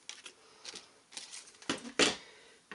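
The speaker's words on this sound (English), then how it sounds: "with the Starburst punch, or you could use a circle punch or circle die, I'm going to cut that out" Paper is cut with a Starburst punch at a card-making desk: a few faint taps, then two sharp, close mechanical clunks near the end, with no speech.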